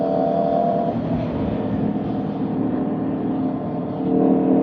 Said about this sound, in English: Ferrari. 488 Pista.